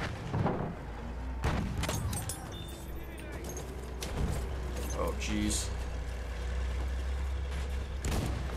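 Heavy tank engine from the Battlefield 1 French DLC, a steady low rumble running throughout, with mechanical clanks and distant booms layered over it and people talking throughout.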